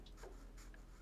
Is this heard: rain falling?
no